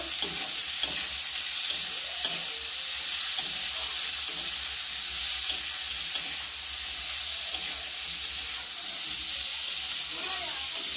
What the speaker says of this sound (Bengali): ক্যাপসিকামটা দিয়ে ভালোভাবে ভেজে নেব।